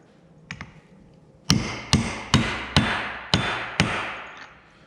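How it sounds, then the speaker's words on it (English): A hammer taps a part into place on the PTO of an Oliver 55 tractor: two light knocks, then six sharp, ringing metallic blows at an even, steady pace, close and loud. "couple of taps with a hammer and"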